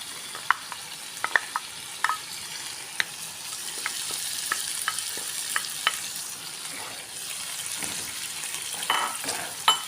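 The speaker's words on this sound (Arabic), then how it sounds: "هنا غادي نضيف الزروديه" Liver frying in a pan with tomato as grated carrots go in, giving a steady soft sizzle broken by scattered sharp clicks and scrapes of stirring.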